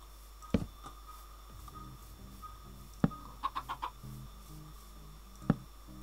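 Minecraft chicken clucking in short bursts, a few separate clucks spread out over several seconds, with a quick run of clucks in the middle and a low game hum underneath, no speech.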